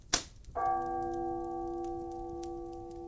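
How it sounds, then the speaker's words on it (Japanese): A ship's bell is struck once by the hourglass watchman on deck, a single sharp strike followed by a long, clear, sustained ringing tone that slowly fades, muffled as if heard through wooden walls below. "あなたの代わりに砂時計の前に座った男が打つ鐘の音が かすかに 木の壁を通して降りてきます"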